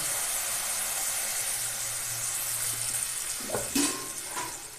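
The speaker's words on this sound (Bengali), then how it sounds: "এখন জল দিয়ে দেবো" A steady hiss of spinach frying, then a splash and sputter as water is poured into the hot pan, the sizzle bubbling afterward.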